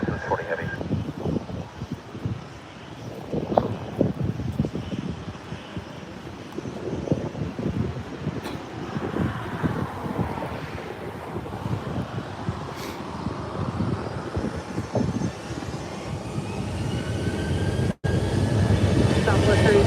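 A Boeing 737 at LAX gives off a steady, broad jet engine roar mixed with wind noise, holding throughout and building toward the end, while people talk and air traffic control radio chatters over it.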